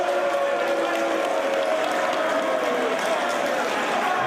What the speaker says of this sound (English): ROH fans in the other, cheering on their respective match.